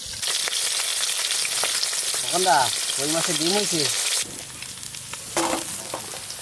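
Fish sizzling and frying in a kadai, a steady loud crackle throughout with a brief break partway; a voice speaks over it for a moment.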